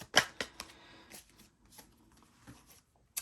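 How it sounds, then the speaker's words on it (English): A few crisp riffling bursts of tarot cards being shuffled, close and fairly quiet, with soft rustling between them and no talking. "Let me give it a couple shuffles."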